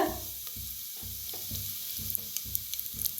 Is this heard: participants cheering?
no